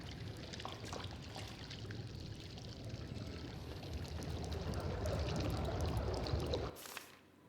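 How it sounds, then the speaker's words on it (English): Ink dripping and pouring in the horror video game Bendy and the Dark Revival, a steady liquid rush that builds slightly louder before cutting off abruptly near the end. "The ink drips"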